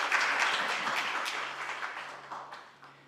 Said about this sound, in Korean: 강렬한 박수 부탁드립니다.